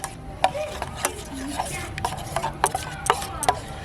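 Flour, gram flour, turmeric and coffee butter being stirred into glycerin for homemade soap, giving soft scraping and tapping strokes in an irregular rhythm, close and fairly quiet with no talking.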